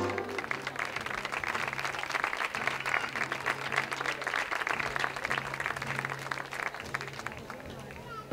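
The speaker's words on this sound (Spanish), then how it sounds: "Nuestra compañera María, un aplauso." An audience claps for a festival queen at a Spanish town's fiesta presentation of honorary queens, continuous and dense applause lasting several seconds, with voices and crowd chatter mixed in.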